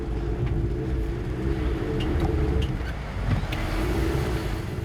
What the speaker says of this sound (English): The car seems unable to pick up any speed.